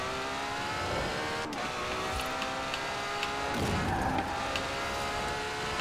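A Ferrari X-Class fitted with dirt tires drives through the winter world of Forza Horizon 4, its engine note rising and falling steadily with gear changes and occasional bumps, loud and close throughout with no voices over it.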